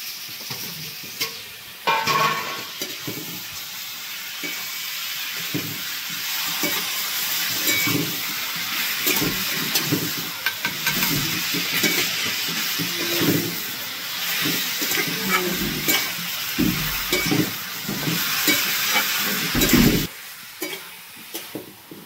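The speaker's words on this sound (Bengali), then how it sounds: "তো এখানে আমার মোটামুটি মাংস কষানো কমপ্লিট, অনেকক্ষণ ধরে কষিয়েছি" Meat sautéing with spices and fried potatoes in a wok, a steady sizzling hiss with frequent clattering stirs and scrapes of a spatula, close by and sustained.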